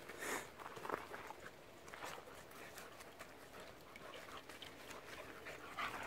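Dogs playing on a hiking trail outdoors, with rapid quiet panting, soft scuffling steps and a few sharp rustles, faint and somewhat distant, with no clear voices.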